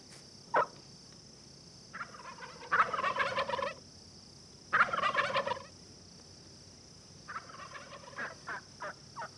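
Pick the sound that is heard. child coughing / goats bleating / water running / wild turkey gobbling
wild turkey gobbling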